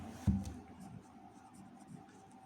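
A pen writing on paper in a maths lesson, heard as faint, close scratching strokes with one firmer tap near the start, quiet and brief with no talking.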